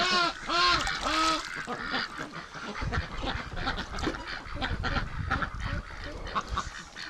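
A domestic duck freshly bathed in a tub of clean water gives a quick run of nasal, honking quacks close by, followed by softer splashing and rustling.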